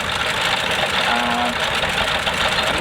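A vintage Sanderson Mills Model Z tractor engine runs with a steady, knocking chug at a steam rally parade, loud and close under a broad hum of crowd and machinery.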